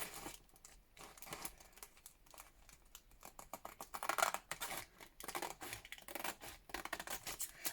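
Scissors trimming paper around a handmade junk-journal ephemera piece, with brisk snipping and crinkling of paper running steadily throughout, close and fairly quiet.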